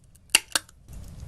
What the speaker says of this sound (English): punch one hole in the center.